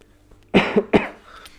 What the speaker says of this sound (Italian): colpettino di tosse